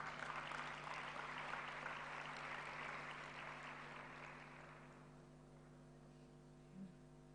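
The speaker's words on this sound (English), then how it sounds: "give them another round of applause" Applause from an audience, broad and steady for about five seconds, then fading away into a quiet room hum.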